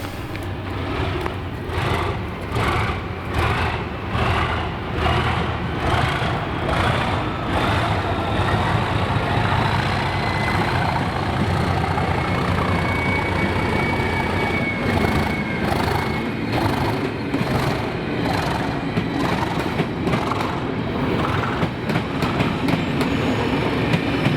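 A Class 37 diesel locomotive pulls a train away at night in Scotland, its engine droning loudly and steadily while wheels beat a regular clickety-clack rhythm over rail joints throughout, close and continuous.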